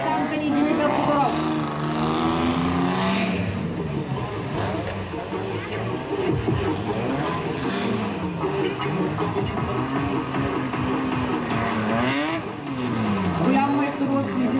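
Drift cars run in tandem at a Bulgarian drift championship round, their engines roaring and revving in rising and falling waves, loud and sustained, while a commentator talks over them.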